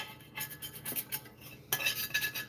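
A metal tool scrapes and clinks against a dish bought for coagulating an alchemical stone, a series of short bright rasps in two bursts, close and fairly quiet, with no talking.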